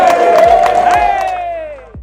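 Audience cheering and whooping loudly at a men's summit event, a dense crowd roar with a sustained shouted tone, scattered claps under it, fading out over about two seconds.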